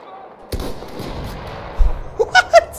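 Video game gunfire: a few sharp, close shots scattered through a moment of play, the last ones clustered near the end, over a low background rumble.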